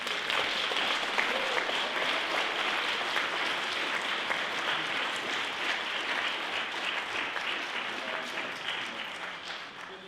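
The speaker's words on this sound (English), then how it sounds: "So if we could have a round of applause," Steady, dense applause from a crowd, continuous and fairly loud throughout, easing slightly toward the end.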